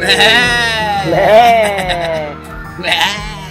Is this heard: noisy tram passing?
no